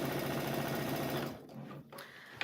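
A sewing machine fitted with a dual feed foot stitches a scrappy Halloween quilt with a fast, steady, close-up whir. The motor then cuts out, leaving faint clicks.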